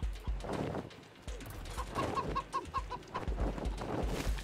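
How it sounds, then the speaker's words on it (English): Chickens cluck in a busy, noisy video game scene from Wasteland 3, a short run of evenly spaced clucks rising above a dense background of clatter and rumble. "Yeah, I hear you chickens."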